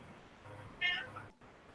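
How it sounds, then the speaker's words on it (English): A pet cat gives a single short, clear meow at close range over a faint background hum. "My kitty says hello"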